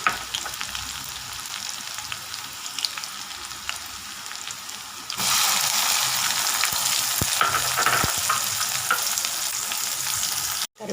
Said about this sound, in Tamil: நல்லா வதங்கிடுச்சுங்க வெங்காயம்.